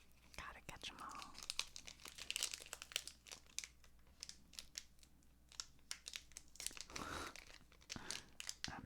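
Pokémon Scarlet & Violet 151 booster packs are opened by hand: close, quiet crinkling and tearing of foil wrappers in irregular bursts, with faint whispering at moments.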